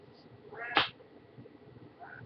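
A cat indoors gives one loud, rising meow close by, with a fainter, shorter cry near the end over quiet room noise.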